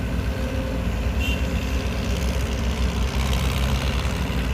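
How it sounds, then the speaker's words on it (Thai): A Sumitomo SH210F-6 excavator's diesel engine idles steadily and loudly nearby, a deep continuous rumble with a faint whistling turbo hiss above it. "เครื่องยนต์แล้วก็เสียงเทอร์โบนี่ค่อนข้างที่จะดังไพเราะนะ"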